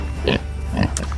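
A Kunekune pig gives two short, low grunts about half a second apart, close by, over a steady low background hum.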